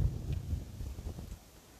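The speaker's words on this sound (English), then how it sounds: "As you can hear, it's quite windy." Wind blowing through an ironbark forest, a broad low rushing roar with gusty swells that is strongest at the start and then eases to a softer, steadier wash.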